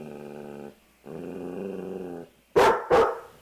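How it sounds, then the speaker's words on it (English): A dog growling twice in low sustained rumbles, then two sharp loud barks close to the microphone, with brief gaps between. "She was waving her forepaws in the air and barking loudly"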